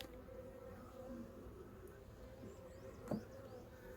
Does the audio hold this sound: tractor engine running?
no